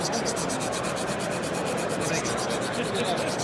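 A knife blade is drawn across the stone of a KME sharpening system in fast, even back-and-forth scrubbing strokes, a close, steady abrasive rasp that carries on without a break.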